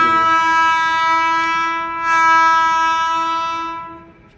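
A loud coal train horn blares in a long, steady multi-tone blast over a low rumble as the train arrives, swelling briefly midway before fading away.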